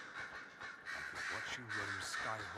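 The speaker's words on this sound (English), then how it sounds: "I can't hear you. The crows won't shut up." Crows cawing in the Skyhold fortress in Dragon Age: Inquisition, loud repeated harsh caws layered together under a person talking.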